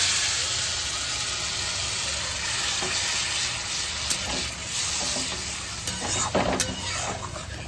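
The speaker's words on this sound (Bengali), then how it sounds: "ভালো করে এবার মশলাটা পুরো কষাবো, কাঁচা যা যা গন্ধ আছে সব চলে যাবে তখন," Spice paste frying in oil in a home kitchen as it is stirred, a steady dense sizzle with scraping spoon strokes and a few sharper clatters late on, continuous and close, no voices.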